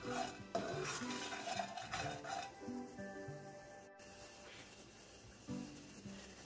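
Roasted almonds and coconut are scraped out of a pan onto a plate, giving quiet metallic scraping and light clinks of a spoon against cookware, fading softer toward the end.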